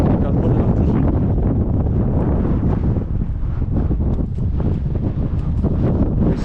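Strong wind buffeting the microphone on an open hillside field, a loud continuous roar and rumble with no pauses throughout.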